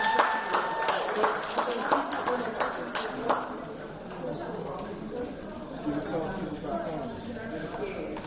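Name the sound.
audience clapping for Ms. Gabby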